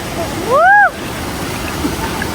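Cold mountain stream water rushing in the Naran Kaghan valley, a steady full wash of flowing water that holds throughout, with a brief rising-and-falling chirp near the start.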